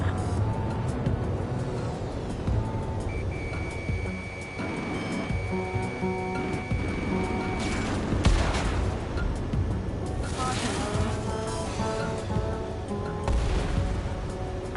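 Aircraft gunfire and jet noise in the combat flight video game Ace Combat 7, with rapid bursts over a dense engine roar and game sound effects, loud and continuous, alongside faint radio-style voices.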